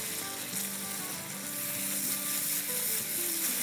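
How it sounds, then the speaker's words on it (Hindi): Tomatoes frying with masala in a pan for a fish fry masala curry, a steady close sizzle with faint stirring, continuous with no talk. "तो बस टमाटरों के साथ हमें जब तक भूनना है"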